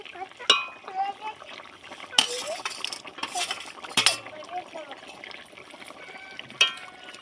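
Rupchanda fish pieces going into a simmering potato curry, with sharp clinks of a utensil against the pot, soft splashes and stirring, while a voice talks over the cooking.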